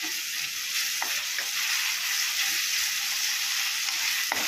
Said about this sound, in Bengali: বোঝাই যাবে যে পেঁয়াজ রসুনটা ভাজা হয়ে গেছে।